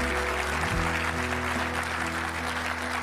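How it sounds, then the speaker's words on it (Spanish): Studio audience applause on the Argentine quiz show "Quién quiere ser millonario", a steady wash of clapping over a low musical hum for about three seconds. "Otro aplauso,"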